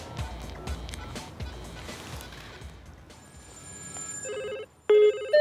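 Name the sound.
a hundred mobile phones ringing around an egg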